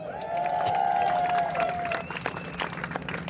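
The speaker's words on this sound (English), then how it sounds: "Give them a round of applause." A crowd at a political speech event applauds with some cheering, dense clapping mixed with a sustained high whistle or cheer early on, then thinning toward the end.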